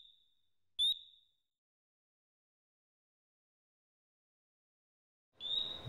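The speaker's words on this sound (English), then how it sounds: "the ALTAIR 2X will activate acoustic, visual and vibrating alarms" An ALTAIR 2X gas detector sounds its acoustic alarm: a high, piercing electronic beep chirps briefly, silence follows, then the shrill tone starts again and holds at the close.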